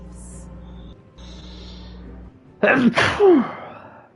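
A single loud sneeze, close and abrupt, following quieter background tones and faint noise, in a Final Fantasy XVI game scene.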